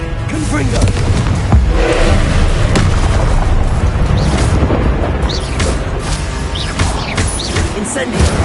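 Confringo blasting-spell explosions from the Hogwarts Legacy video game boom and burst repeatedly over a dense, loud layer of combat noise, with voice sounds mixed in throughout.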